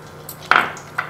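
A spoon stirring a thin batter of flour, salt and water in a bowl, heard as a near, sharp clink against the bowl followed by a softer second tap, with no voices.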